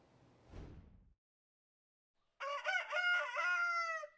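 Hens and a rooster in a backyard chicken coop in Las Vegas: a brief rustle and cluck, a pause, then a loud, close rooster crow held for nearly two seconds.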